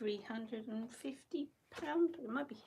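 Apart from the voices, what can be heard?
No everyday noise stands out behind the speech.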